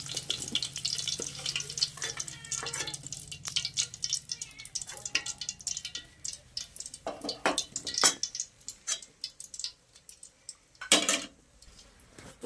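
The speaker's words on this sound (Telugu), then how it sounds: "ముందుగా అయితే కావాల్సిన తాలింపు గింజలు వేసుకుంటున్నానండి" Tempering seeds drop into hot oil for drumstick pickle, crackling and sputtering close up alongside metal spoon clinks and scrapes against the pan, busier at the start and punctuated by sharp clanks later.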